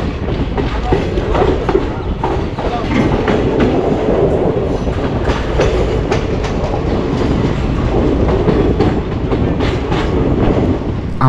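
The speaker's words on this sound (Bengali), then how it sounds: "আমাদের রেলগাড়ি নিজের সর্বোচ্চ গতিতে ধেয়ে চলতে লাগলো পশ্চিমের দিকে" A train running from Jodhpur toward Jaisalmer across the Thar Desert, heard loud and close with a continuous roar and a steady clickety-clack of wheels over rail joints.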